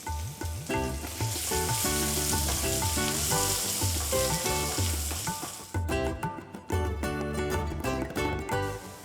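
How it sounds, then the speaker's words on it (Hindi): Cumin seeds, finely chopped ginger, garlic and a green chili sizzle and spatter in hot oil, a loud, close, continuous frying hiss with stirring clinks, while music plays underneath. "इस ऑयल में अब मैं डाल रही हूँ 1 चम्मच जीरा, साथ ही मैं डाल रही हूँ इसके अंदर 1 चम्मच बारीक कटा हुआ अदरक"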